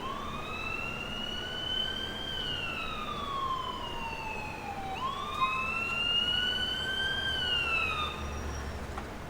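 An ambulance siren in the video game GTA IV, set in Liberty City, wails in long rising and falling sweeps over steady traffic rumble, fairly loud and sounding alone.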